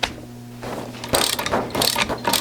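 A 14 mm ratchet wrench loosens brake bolts on a Toyota AE86 during a Wilwood big brake upgrade, clicking in quick bursts of close, loud metallic ratcheting, alone.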